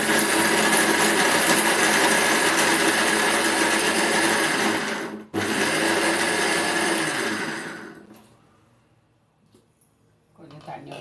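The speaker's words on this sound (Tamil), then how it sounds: "கொஞ்சமாக தண்ணி விட்டு அரைச்சிக்கோங்க." A mixer grinder whirs loudly and steadily while grinding coconut chutney with a little water, a dense motor drone that briefly cuts out, restarts, then winds down to near silence before faint kitchen sounds.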